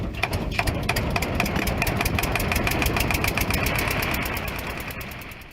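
A motorboat engine runs loud and close with a steady, rapid mechanical chug and rattle, holding constant before easing off slightly at the end.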